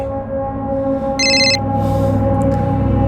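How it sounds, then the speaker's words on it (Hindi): A telephone rings in a short electronic burst of bright tones over a steady hum of background noise, loud and close. "अरे बशीर क्यों फोन कर रहा है अभी?"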